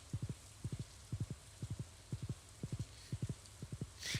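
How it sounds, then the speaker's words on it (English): Horse hooves clip-clopping in a video game, paired thuds repeating in a steady trotting rhythm, near and clear over a faint ambient hiss, with a brief soft rush at the end and no talking. "Your loyal horse waits patiently for your return."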